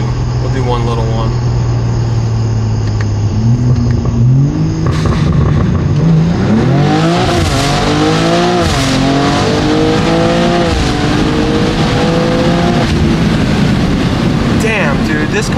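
BMW G87 M2 with a RaceChip GTS Black tune and Eventuri intakes pulling hard through the gears, loud close engine howl climbing in pitch with quick shift breaks, people talking over it.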